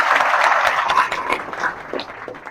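Classroom students clapping together, a burst of hand claps that starts thick and loud, then thins out and fades over a couple of seconds.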